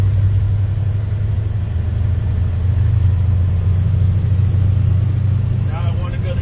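A manual car cruising in seventh gear, with a steady low engine drone and road rumble throughout, loud and continuous with no break.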